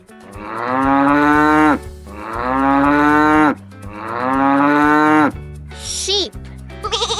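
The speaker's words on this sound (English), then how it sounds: "Cow." A cow moos three long, loud, low calls in a row, each lasting nearly two seconds, close and clear. Short, higher animal-like sounds follow at the end.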